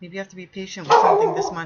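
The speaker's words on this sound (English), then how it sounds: "I'm sorry about the dogs." Several dogs bark in a short burst at an indoor home setting, loud and close and overlapping a person who keeps talking calmly.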